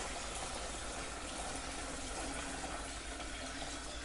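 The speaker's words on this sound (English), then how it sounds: "we're going to strain it in like that. Just watch, because it does splash, and it is really hot." Hot homemade chicken stock poured through a strainer, a steady, continuous rush of splashing liquid that holds at an even level throughout, with no voices.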